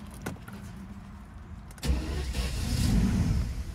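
The V12 engine of a Mercedes W140 600 SEL: a sharp mechanical clunk, then a low, uneven rumble that swells and lumbers roughly, close and fairly quiet.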